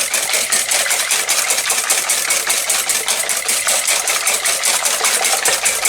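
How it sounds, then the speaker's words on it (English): Egg mixture with seasoning whisked for a cheese quiche: steady, fast rhythmic clicking and scraping of a whisk against a bowl, close and continuous throughout, with no speech. "and then we whisk that together."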